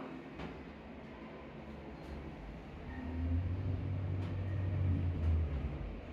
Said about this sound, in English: Going up.